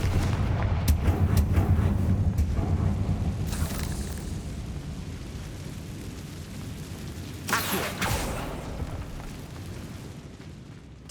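Confringo spell in the video game Hogwarts Legacy, a deep rumbling blast that rolls on for seconds, with sharper crackling bursts near the start and a second boom later, heard alone without voices.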